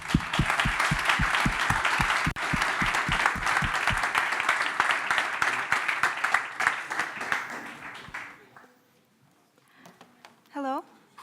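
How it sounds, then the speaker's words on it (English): An audience at a robotics AI talk claps warmly, dense applause that thins out and fades after about eight seconds, followed by a short electronic tone. "applause"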